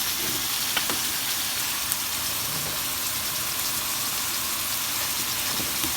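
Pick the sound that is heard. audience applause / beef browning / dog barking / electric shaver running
beef browning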